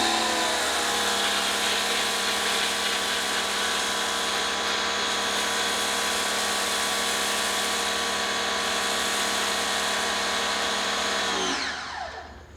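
A foam cannon with a 1.1 millimeter orifice, fed from a pressure washer, sprays Chemical Guys Honeydew car wash soap in a loud, steady, hissing whine that holds for about eleven seconds before cutting off at the end.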